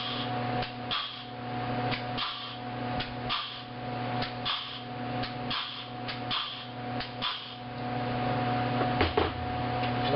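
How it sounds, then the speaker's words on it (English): Air-powered flanging tool stepping the edge of a sheet metal panel for a replacement repair, a loud pneumatic hum broken by quick repeated punching clacks in an uneven rhythm, close by with no talk. "This is a flanging tool,"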